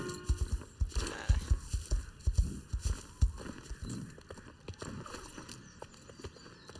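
Horse hooves clip-clop in a video game, a rhythmic series of moderately close footfalls that gradually soften, with faint game sounds behind.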